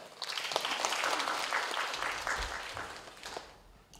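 A church seminar audience applauds after a lecture on evangelism, dense clapping that swells early, holds steady, then thins and fades toward the end.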